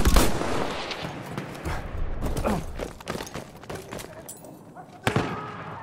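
Enemy machine gun fire in a video game, sharp shots in irregular bursts amid a busy battlefield din, with a strong crack near the end.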